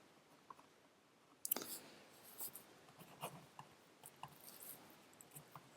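Pen or pencil scratching across paper while a chain rule problem is worked on a calculus worksheet, a run of short, faint strokes and taps close by with no talking.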